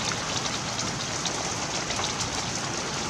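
Freezing rain pouring down steadily during a storm in Quebec, a dense, continuous hiss of drops on surfaces and trees, close and even throughout with no voices.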